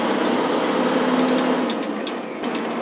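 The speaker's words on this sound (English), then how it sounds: "Rev the engine RPM up and down, which will eventually engage." A harvesting machine's engine runs during a sugar beet harvest in a Minnesota field, a loud, steady mechanical drone that dips slightly in level near the end.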